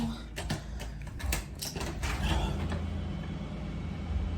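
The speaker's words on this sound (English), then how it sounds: "I'm about to open the front door right now." A house's front door creaks and clatters open, its latch and hinges squeaking in a burst of short mechanical clicks and scrapes before fading into a quieter room tone.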